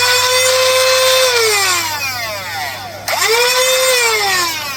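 Electric flywheel motors of a Dart Zone Max Venom foam blaster spin up to a loud high whine, wind down, then rev up sharply again, close and dominant.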